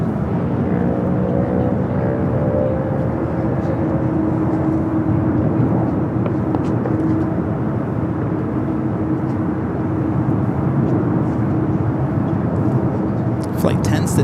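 Boeing 787-9 Dreamliner departing Los Angeles for Tokyo Haneda, a sustained loud jet roar with a droning engine tone early on, steady throughout, and some talk mixed in.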